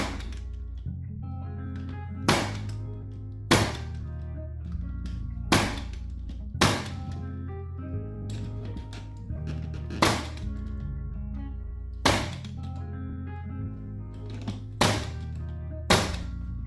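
A pneumatic nail gun face-nails the edge of a hardwood floor, firing about a dozen sharp, separate shots at an irregular pace over a low steady background hum.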